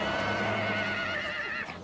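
Przewalski horses arriving at a nature reserve in Mongolia after being flown in from European reserves, with a sustained, fairly near neigh or whinny ringing out clearly for nearly two seconds.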